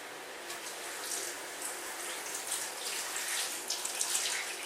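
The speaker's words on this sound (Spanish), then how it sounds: "Y ahora le echamos la agua." Water pours steadily into a pot while a homemade honey cough tonic is prepared in a kitchen, a continuous splashing stream lasting several seconds with no talk.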